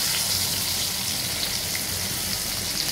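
Sliced eggplant fries in a pan of oil, giving a steady, dense crackling sizzle like light rain that holds at the same level throughout, close and without speech.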